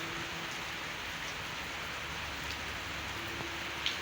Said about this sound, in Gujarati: કમોસમી વરસાદ જો અટાણે તો પડી રહ્યો છે